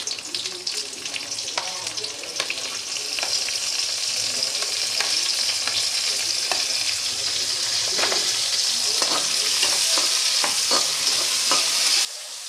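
Large onions sizzling in hot oil for a paneer gravy, a bright steady hiss with scattered crackles and stirring clicks, close by, before the frying cuts off near the end.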